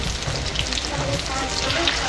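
Tortang puso ng saging, a banana heart omelette, fries in hot oil on a stove with a continuous close sizzle and crackle.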